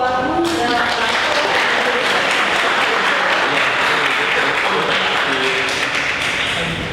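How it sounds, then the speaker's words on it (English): An audience gives a round of applause at the close of an economics seminar, steady close clapping that starts just after a voice trails off and continues evenly to the end. "a big round of applause for"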